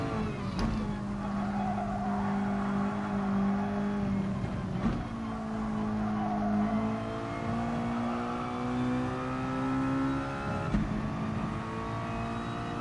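Mazda touring car in a racing video game at Suzuka, engine held at full throttle with a loud, continuous rising whine through the gears, brief dips at shifts and faint tire squeal, steady and close with no talk.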